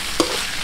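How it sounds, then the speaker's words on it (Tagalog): Onion, ginger and garlic sautéing in a hot pot, giving a steady close sizzle with a brief stirring scrape partway through. "Saute lang natin siya ng saute hanggang sa makuha niya yung mga"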